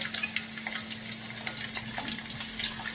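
Pieces of food frying in hot oil during home cooking make a quiet, steady sizzle with scattered crackles and pops, no voices over it.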